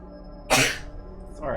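A single sharp, loud sneeze bursts out partway through, with a person speaking briefly before and after it.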